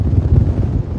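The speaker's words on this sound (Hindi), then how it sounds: "बहुत ही तेज़ हवा है" Strong wind at Khandi Point near Pune buffets the microphone with a loud, low, rumbling roar throughout.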